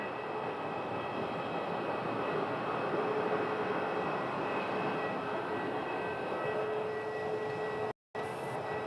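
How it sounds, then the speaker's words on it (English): A Boeing 737 airliner at Phoenix Sky Harbor airport produces a steady, distant jet engine whine and hum as it taxis, holding an even level throughout with a brief cut near the end. "it looks like we have another 737, but they're going into a gate on the other side"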